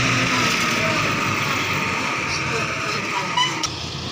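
Mahindra 655 tractor engine running under load, pulling a loaded trolley with the PTO engaged, a steady dense rumbling drone close by, with someone talking over it.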